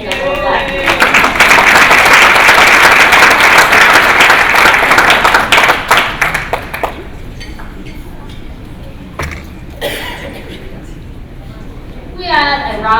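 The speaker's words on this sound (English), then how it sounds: "We had a round of applause for." An audience at a school staff retirement event applauds a retiring security worker, loud dense clapping for about five seconds that thins into scattered claps, followed by someone talking.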